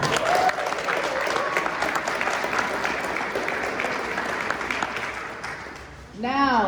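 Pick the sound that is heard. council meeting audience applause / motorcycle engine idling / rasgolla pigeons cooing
council meeting audience applause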